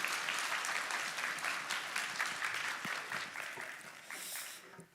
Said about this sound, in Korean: 여러분 큰 박수로 우리 목사님 환영하도록 하겠습니다